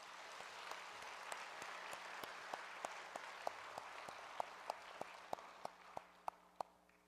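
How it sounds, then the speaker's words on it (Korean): A church congregation applauding in thanks during a Good Friday night prayer service, soft diffuse clapping with sharper scattered claps standing out as it tapers off, no talking. "감사의 박수 한번"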